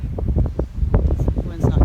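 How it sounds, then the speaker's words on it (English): Strong wind on a ridge along the Pacific Crest Trail buffets the microphone with a steady low roar, while a voice talks through it in short bursts. "It's super windy up here"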